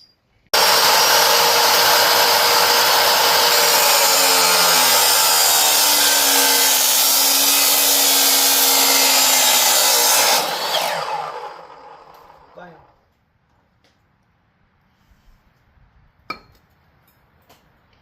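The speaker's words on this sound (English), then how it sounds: "we're going to be cutting some pieces off of this old generator frame here" A loud power tool cuts steadily through an old metal generator frame for about ten seconds, then winds down, followed by quiet with a couple of sharp metallic clinks.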